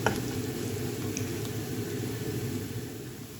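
Sliced onion sizzling in hot oil in a pan for beetroot leaf thoran, a steady close frying hiss that runs evenly throughout with no talking.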